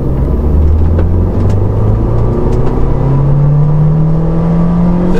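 A Renault Megane 2 CC 2.0 turbo accelerates hard from 20 to 80 km/h, its engine drone rising steadily in pitch through the gear, loud and close from inside the car with no talk.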